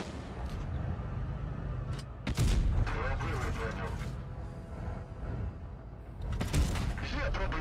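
In the mobile tank game World of Tanks Blitz, tank cannons fire over a steady rumble of battle noise, with two heavy booming blasts standing out, one near the middle and one near the end.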